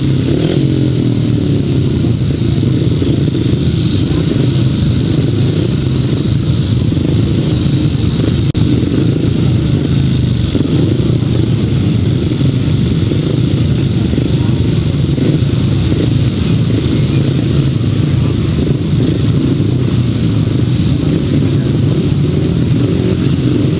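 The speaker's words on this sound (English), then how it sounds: "Revving up then for the restart of race number 6." 500cc solo grasstrack motorcycles revving together on the start line before a race restart, a dense, steady, loud engine roar with no letup throughout.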